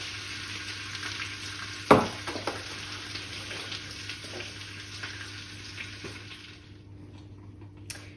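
Butter and flour roux being stirred inside a Cooking Chef kitchen machine, a steady low mechanical hum with soft scraping and a brief louder clunk early on, continuous and fairly quiet without talk.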